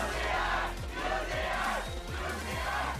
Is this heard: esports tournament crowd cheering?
yes